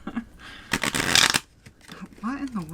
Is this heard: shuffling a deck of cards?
yes